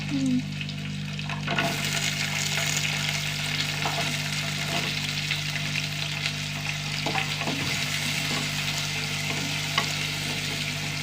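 Ten to fifteen small onions fry in hot oil with a steady close sizzle, while a spoon scrapes and knocks against the pan at irregular intervals.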